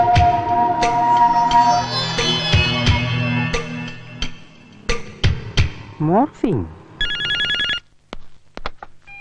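An old-style landline telephone bell rings in repeated bursts, mixed with background music and other clatter, close and loud.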